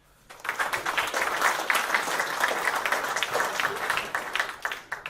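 Audience applause greeting a speaker at an Intelligent Workplace corporate event, a dense, steady wash of many hands clapping that starts abruptly and holds at an even level throughout without talk.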